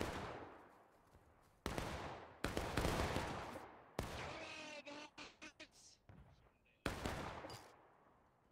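Repeated musket volleys and scattered rifle shots in the Civil War shooter War of Rights at Bolivar Heights, loud broadband cracks in bursts across the clip with shouted voices between.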